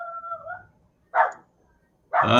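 A dog gives a whiny yelp, then two sharp, loud barks with pauses between them, close by and with no talking.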